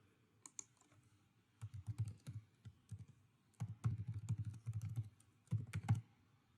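Keys clatter on a computer keyboard during a software registration login, with quiet, close taps that come in short irregular runs and brief pauses.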